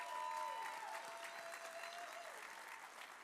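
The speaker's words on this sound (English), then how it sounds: "Just give a round of applause for the people who are in this." An awards-show audience applauds at country music awards, a steady wash of clapping that is fairly faint and distant, with a sustained tone running beneath it and gradually easing off.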